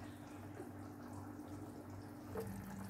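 Tap water runs steadily into a cooking pot for boiling fava beans, a continuous close splashing pour with a brief louder splash near the end.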